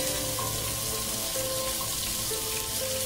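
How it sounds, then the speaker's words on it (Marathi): Brinjal (eggplant) frying in a little oil in a pan for stuffed baingan masala, a steady, close, dense sizzle that holds evenly throughout with no talk. "तोपर्यंत आपली ही वांगी जी आहे ती भाजून घेऊया चांगली मस्त"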